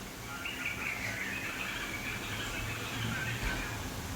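Faint chirping of sparrows indoors in a house, over a steady background hiss, the calls light and scattered rather than loud or close.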